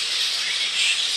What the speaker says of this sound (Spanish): un atardecer, escuchando las calandrias, los pericos, los pájaros